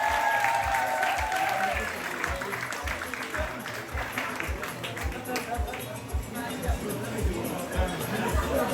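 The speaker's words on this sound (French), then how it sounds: "Je vous applaudis, s'il vous plaît." An audience at an award ceremony honoring champions applauds as the president of l'Aigle Noir is called up. Sustained crowd clapping mixes with chatter over a steady, thumping low beat.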